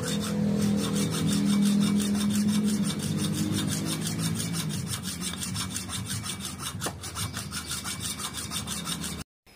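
Steady back-and-forth rasping of a hand file flattening a cut, rusted high-tensile screw on a Kawasaki Barako motorcycle, close and continuous, with rhythmic strokes and no talk.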